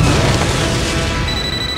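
A heavy explosion booms in a superhero video game, a loud, dense blast of rumbling noise filling the whole moment with no voices.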